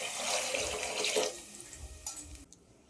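Water is poured from a mixer jar that still holds leftover masala into a pot of pulao, making a close, steady splashing rush that stops abruptly after about two and a half seconds.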